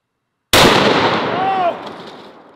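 A 700 BMG rifle firing a 1,000 grain soft point bullet at a zombie torso target: one loud, sharp blast that cuts in from silence, then a long booming decay and echo with no talk.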